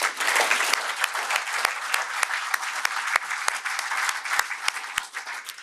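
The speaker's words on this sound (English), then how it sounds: "A round of applause for them." An audience at a Surrey Board of Trade meeting breaks into sustained applause, a thick wash of many hands clapping with sharp individual claps standing out, tapering off near the end.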